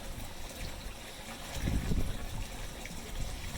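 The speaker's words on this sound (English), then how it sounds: "We're straining that right into the cheesecloth just to make sure" Maple sap poured through cheesecloth into a 15-gallon cauldron: a steady outdoor rush of liquid that swells to a heavier gushing splash midway, then settles back to a constant flow.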